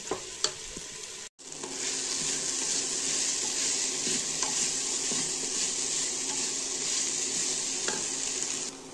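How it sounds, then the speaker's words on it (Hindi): Okra (bhindi) stirred and fried in a pan makes a bright, steady sizzle that cuts out for a moment and then returns, with occasional spoon scrapes and taps, close and continuous with no speech. "अब मैं इसमें भिंडी ऐड करूँगी। बिस्मिल्लाह। अब ना हमें इसे खूब फ्राई करना है, खूब।"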